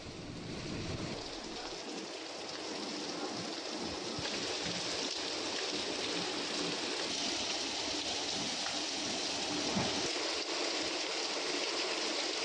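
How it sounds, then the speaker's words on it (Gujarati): Steady rainfall during a thunderstorm in Sabarkantha, Gujarat, a dense, even hiss of falling rain that holds at a constant moderate level throughout with no voices. "આ વરસાદ થતાં વાતાવરણમાં ઠંડક પ્રસરી હતી"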